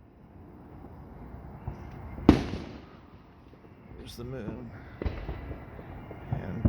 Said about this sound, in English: Way out in the distance you can see the fireworks there.